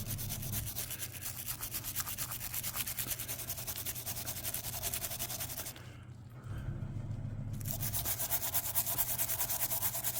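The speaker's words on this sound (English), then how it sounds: "take a brass brush and begin just to scrub at the tarnish" Brass brush scrubbing tarnish off a Hot Wheels Sweet Sixteen custom Corvette toy car, a close, rapid back-and-forth bristle scratching that runs steadily, breaks off briefly, then resumes.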